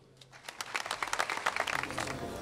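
A short burst of fairly faint applause from a group thanking the godmother, scattered claps that build within the first second and carry on evenly.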